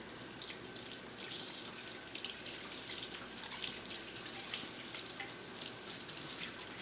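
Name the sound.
rinsing green onions under cool tap water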